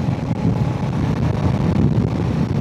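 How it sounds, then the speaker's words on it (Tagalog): Strong wind buffets a rider on a Kawasaki Z650RS motorcycle in the flat Dutch countryside near Dronten, a loud, continuous low rumble of gusts roaring across the microphone. "grabe itong hangin na to"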